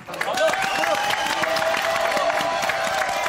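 Live audience at a holiday TV show breaks into applause for Miss contestant Émilie, rising quickly into a steady, full burst of clapping and cheering with scattered shouts.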